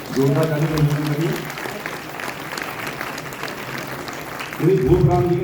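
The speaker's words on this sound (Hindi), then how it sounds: "जोरदार ताली से अभिनंदन करिए।" Applause from an audience at a retirement ceremony, moderate clapping that runs steadily through the middle while someone speaks at the start and again near the end.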